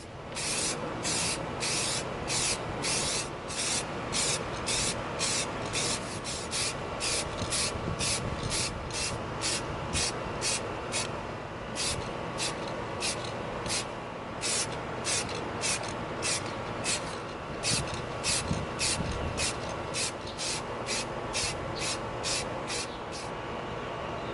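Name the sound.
spray painting with aerosol can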